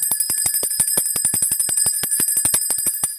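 A small bell rings rapidly and continuously at close range, its bright, high, sustained tone repeating in quick strikes with no speech over it.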